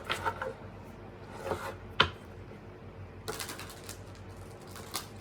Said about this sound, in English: I'll give y'all an extra good shuffle